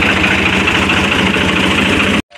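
Tractor engine idling in a peanut field, a steady low rumble with even vibration held close and loud, cutting off abruptly near the end.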